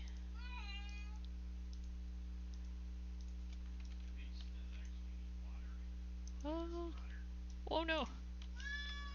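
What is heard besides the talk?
pet cat howling, meowing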